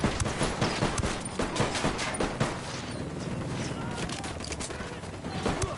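Rapid bursts of gunfire from the Wild Lands video game, dense and loud, with repeated shots and volleys rattling continuously across the whole stretch over a busy battle background.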